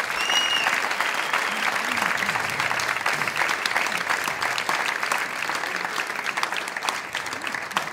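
Audience at the ANOC gala applauding in a loud, continuous burst of clapping that stays strong and dense for the whole stretch, with a faint voice briefly audible early on.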